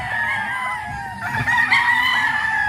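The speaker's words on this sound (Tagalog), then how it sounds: "kadaghan sa manok ko" Several chickens clucking and a rooster crowing close by, a steady busy farmyard chorus with overlapping calls throughout.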